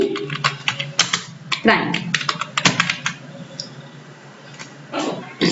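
Fingers type on a computer keyboard into a search bar in quick, close clusters of key clicks with short pauses between them. Someone speaks over part of the typing.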